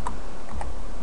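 Quick keystrokes on a computer keyboard while entering a command, a few light clicks over a steady background hum, with no talking.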